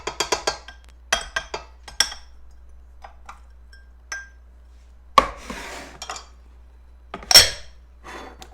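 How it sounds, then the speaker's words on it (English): Chopped apples dropped into a bowl in a home kitchen: scattered light clinks and knocks of pieces hitting the dish, a few sharper clatters, close and isolated with quiet gaps. "So chop your apples up. We're going to put that in that bowl."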